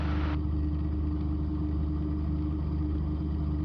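A home-built Raptor prototype engine runs at about 3,400 RPM, burning 20 gallons an hour, making a loud, unbroken roar from start to finish with no voices.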